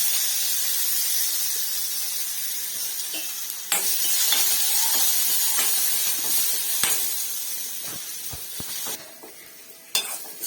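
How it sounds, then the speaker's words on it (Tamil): Sliced onions sizzle and hiss in hot oil with whole spices such as cloves and fennel while being sautéed for chicken biryani, a steady frying sound broken by occasional stirring clinks and scrapes of the utensil against the pan. "இந்த வெங்காயத்தை போட்டு வதக்கிட்டு"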